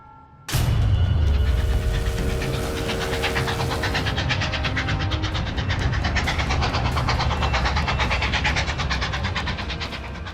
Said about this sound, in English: A packed train speeds on its way south, ready to replenish the Union Army with fresh troops and supplies.